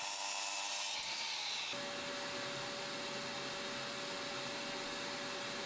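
A power saw cuts into a 6x1 timber board for a log store, its motor spinning up and then holding a loud, steady whine with a rough, continuous cutting hiss.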